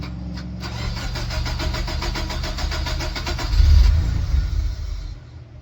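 A Nissan 200SX engine cranks with rapid rhythmic churning, catches, and revs up once in a loud, close burst before settling. No voices are heard.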